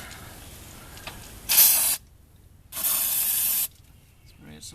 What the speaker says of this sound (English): Spray it some more.